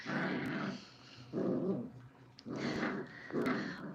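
A playful dog growls in several close bursts with short pauses between them, low rumbling sounds and some whimpering, and no one speaks.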